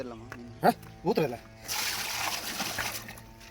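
Water pours and splashes inside a container with a broad rushing hiss, following a couple of brief voiced sounds at the start.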